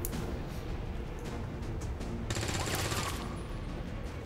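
Rapid video-game gunfire from XCOM 2: War of the Chosen, a dense burst of shots that swells loudly midway through the short stretch over constant game noise.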